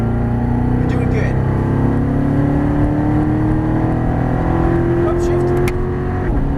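A Chevrolet Corvette Stingray accelerates at full throttle on a cone course, its engine a loud sustained drone that climbs steadily in pitch, heard from inside the cabin with a voice speaking over it.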